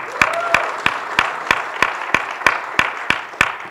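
People at a gathering for Jason Walker with attorney Ben Crump clap in a regular rhythmic beat, sharp unified claps repeating steadily and close by above a quieter spread of scattered clapping.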